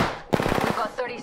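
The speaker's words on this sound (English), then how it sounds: "They're shooting at me!" Rapid automatic gunfire in the battle royale game Apex Legends, a fast loud burst of about ten shots after a brief lull, followed by a short trailing sound.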